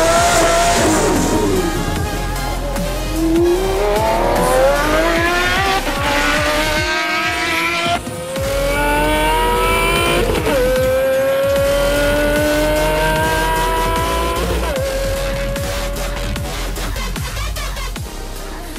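A Pagani Zonda's AMG-built Mercedes V12 rated at 800 horsepower roars loudly, sweeping up through revs in repeated rising pulls, with a brief drop near the middle and tire squeal mixed in.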